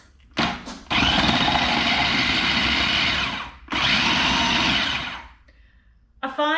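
A food processor blitzes sausage roll filling with garlic in two loud, sustained whirring bursts separated by a short pause, ending with a brief clatter and a faint voice.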